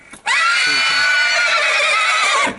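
A horse whinnies loudly and close, one sustained neigh lasting a couple of seconds that rises and then trails off; the horses are Nukra and Chamba types.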